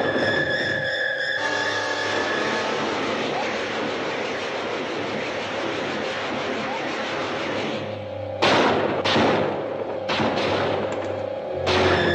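Artillery barrage from the 1956 film Earth vs the Flying Saucers, a dense continuous roar of gunfire and rumble with steady tones, ending in several sharper loud bursts near the close.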